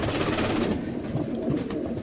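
Pigeons coo softly in a loft of young birds, a steady low murmur of several doves running continuously with no talking.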